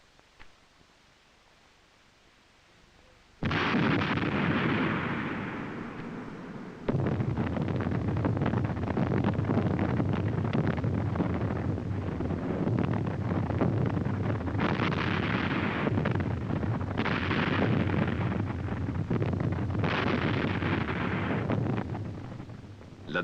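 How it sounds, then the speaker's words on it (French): Artillery fire in a 1972 Swiss Army infantry combat training film, a sudden loud blast followed by rumbling, rolling booms and further bursts that swell and fade in a continuous roar. "L'artillerie soutient le combat de l'infanterie."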